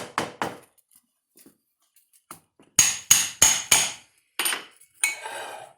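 Sharp saddler's hammer blows on leather for a multi-tool sheath: a couple of early knocks, then a quick run of four loud strikes followed by a few more, with quiet gaps between.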